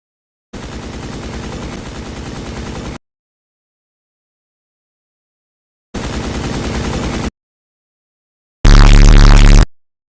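Minigun fire from a Roblox Tower Defense Simulator tower, two sustained buzzing bursts of rapid shots separated by silence, then a third louder, harsher burst, all loud and close with no talk.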